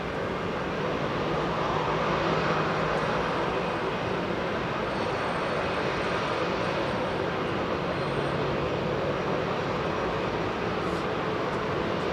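A China Airlines airliner at Heathrow Airport gives off a steady, broad jet roar that holds at an even loudness throughout, with no talking over it.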